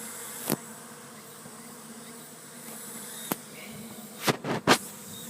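Bees buzz faintly and steadily around a hive, a low continuous drone with a few sharp clicks and knocks near the end.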